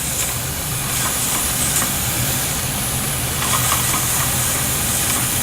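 Model steam engines, including a Jensen, building pressure and hissing steam, a steady broad hiss that holds on continuously and fairly close, with no talk over it.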